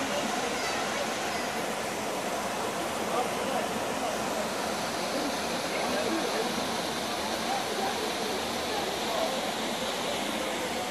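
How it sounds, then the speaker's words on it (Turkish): The Cennet waterfalls in Turkey pour with a steady, full roar of rushing water that stays constant and fairly close throughout. "Cennet şelaleleri ikinci şelalemizdeyiz."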